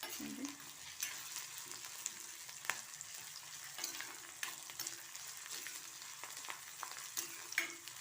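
Green chilies and onions fry in a pan with a steady crackling sizzle, punctuated by spatula scrapes and stirring clicks throughout, close and fairly quiet, no talking.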